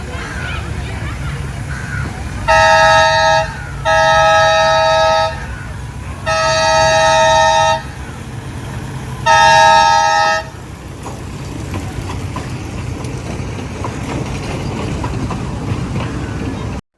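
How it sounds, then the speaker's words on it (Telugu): Four loud horn blasts sound from a nearby train departing at a rail museum in Chennai, the second and third held longer, over steady engine rumble before it settles into a continuous drone. "ట్రైన్ అయితే బయలుదేరిపోయింది."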